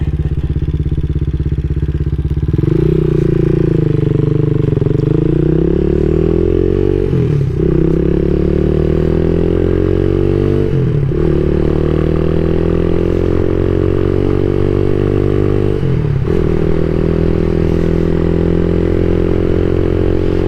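A CSC SG250 motorcycle fitted with a MotoCult Stage 4 kit accelerates hard through the gears, its loud, close engine note climbing in pitch with brief dips at each shift over a steady drone, with no talking.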